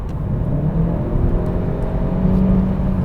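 VW Golf GTE plug-in hybrid, 2018 facelift, accelerating hard from around 110 km/h, a steady close engine roar and whir rising slightly in pitch over a few seconds, no voices.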